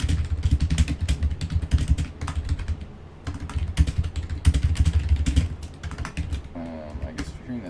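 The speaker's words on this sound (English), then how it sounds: "I guess if you're hearing that typing, it's just me typing in chat" Someone types in a chat on a computer keyboard, giving rapid, irregular clicking keystrokes close to the microphone. Brief pauses break the bursts, and a faint background hum runs underneath.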